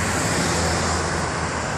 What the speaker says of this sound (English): Traffic's kind of heavy right now